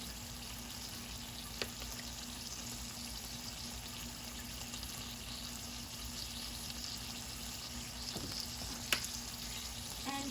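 Marinated chuck steak and onions fry in a pan with a steady, close sizzle, a low hum beneath it and a couple of sharp clicks, with no talking.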